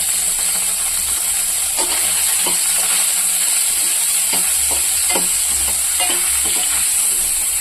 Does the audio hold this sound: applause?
no